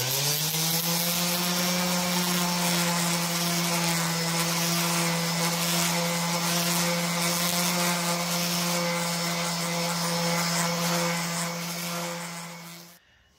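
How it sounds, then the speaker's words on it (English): A power sander runs continuously on wood filler across a wooden deck gate, giving a loud, steady whine with a strong hum and a raspy surface rub, then cutting off at the end. "you can go over it with the sander, and the sander is gonna create fine dust that'll fill everything and make it all nice and flat"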